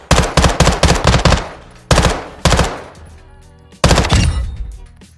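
An SMG is tap-fired at long range in the video game DMZ, with short bursts of rapid shots, then single sharp cracks spaced apart, each loud and ringing out with echo.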